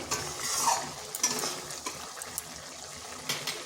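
Fish curry simmering in a pan gives a soft, steady bubbling hiss with a few light utensil clinks and scrapes scattered through it, close and moderately loud, with no talking.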